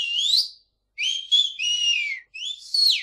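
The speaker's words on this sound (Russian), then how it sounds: "Русский свист." A sampled Russian whistle instrument plays clear, high whistled tones in a few sliding phrases, rising and falling, with short pauses between them and nothing else underneath.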